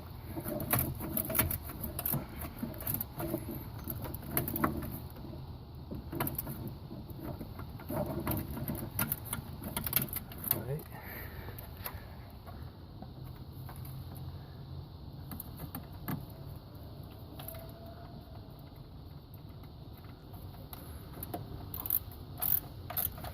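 Bolts are tightened on a 1ZZ engine during a rebuild, with hand-tool ratchet clicks and metallic clinks, intermittent and close, against a low background hum.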